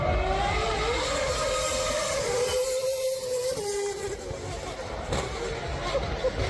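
Formula 1 V10 race car engine revving at Monaco, a loud high-pitched wail that rises and falls across several seconds, with a voice speaking faintly underneath.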